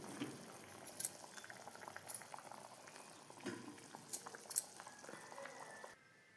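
Egg curry with potatoes bubbles and boils steadily in a pan, a continuous close simmering hiss with small pops, alone, cutting off near the end.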